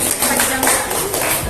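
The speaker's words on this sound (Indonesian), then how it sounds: "Tepuk tangan dulu yuk buat kelompok 1 yuk." Classroom applause for a student group during an Indonesian-language open class, a dense burst of many hands clapping at close range with voices mixed in.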